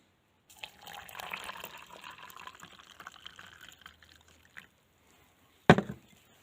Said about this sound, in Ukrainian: а тепер заливаю теплою водою